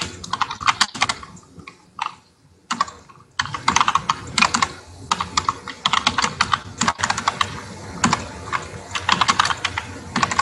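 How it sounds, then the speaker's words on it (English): Fast typing on a separate computer keyboard, dense clattering keystrokes in quick bursts with a couple of brief pauses, close and fairly loud. "I'm on a separate keyboard just so I can actually type"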